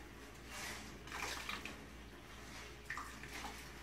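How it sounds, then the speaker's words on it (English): Quiet water gurgles and trickles as a tub of dye-rinse water drains after dyeing a shibori scarf, with a low steady rush and occasional soft splashes. "So I am going to drain this water out."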